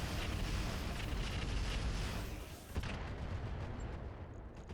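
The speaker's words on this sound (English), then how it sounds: "We're gonna fire some missiles at this Verby." In a mech combat video game, missiles launch at an enemy mech in a loud, roaring rumble of rocket fire and explosions that swells, dips briefly and then continues as a duller boom.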